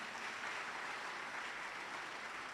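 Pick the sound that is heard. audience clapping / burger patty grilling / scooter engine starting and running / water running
audience clapping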